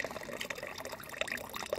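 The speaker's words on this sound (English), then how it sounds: "filtering it into the other water bottle so we can have water without floaty stuff in it" Lake water at Heart Lake near Lincoln, Montana, poured through a cloth bandana into a water bottle, giving a close, continuous trickle and splash with no voices.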